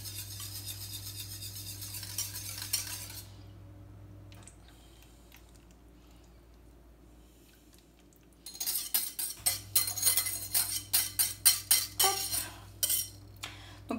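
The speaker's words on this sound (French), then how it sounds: "je vais venir, voilà, remuer un petit peu comme ceci, que tout se mélange bien entre eux" A spoon stirs sauce with Knorr bouillon in a bowl, scraping and clinking against the sides in quick irregular strokes, quiet at first, then a pause, then louder, denser clatter near the end.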